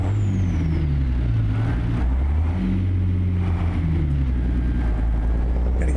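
Truck engine in American Truck Simulator revving continuously at close range, a droning, rising and falling tone over a low rumble, with no voices.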